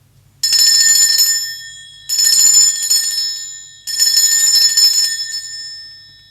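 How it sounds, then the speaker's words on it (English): A bright bell rings three times in separate bursts, each clear metallic tone sustaining and fading before the next strike. "I'm going to be ringing this bell over here. This is just to cleanse the space around us."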